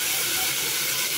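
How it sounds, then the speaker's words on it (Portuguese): Cooking oil frying in a pan on a home stove gives a steady, close, bright sizzling hiss that runs without a break. "Já coloquei o óleo aqui pra fritar."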